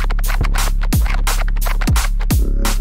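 A loud drum and bass drop: pounding kick drums and snappy hits over a thick, growling Reese bass, driving and dense at a fast tempo.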